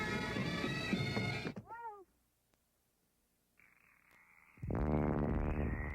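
A frog croak sound effect in a Christmas commercial: a quick run of short, rising, chirpy croaks rings out clearly after music cuts off, followed by near silence, a steady tone, and then loud music returning.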